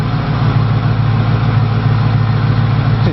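A running car engine idles close by with a steady hum and a continuous alternator whine riding on top, no talking.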